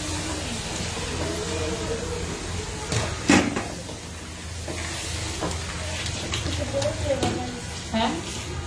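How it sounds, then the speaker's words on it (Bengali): Food frying in a pan as it is stirred in a home kitchen, with a steady sizzle broken by scraping strokes and a few sharp knocks, while people talk nearby. "নাড়া দাও, দিয়ে অরবিন নাড়া দাও"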